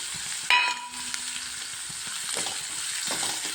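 Crushed ginger stir-fried in hot oil for a green chilli pickle, giving a steady close sizzle with soft scraping from the stirring and a brief metallic clink near the start.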